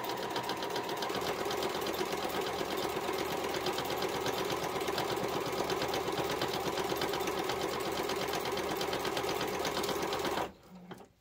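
A sewing machine runs steadily at speed, stitching fabric pieces along marked lines for a flower petal bowl cozy, its loud rapid mechanical chatter continuous for about ten seconds before stopping abruptly.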